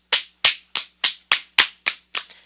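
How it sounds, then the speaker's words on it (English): Hand slapping the top and bottom of one's own foot during a yoga class: eight crisp, evenly spaced claps, close and clear, with no talking over them. "let's give a little space here to smack your foot, both the bottom and the top, clapping"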